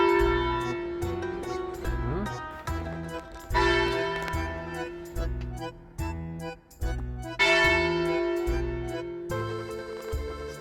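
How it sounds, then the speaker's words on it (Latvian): Small-town church bells in Edolo near Lake Como ring out at noon in a steady, overlapping peal of clangs, loud and reverberant, sounding alone without talk. "Šīs pilsētiņas zvani ziņo, ka ir pulkstenis 12."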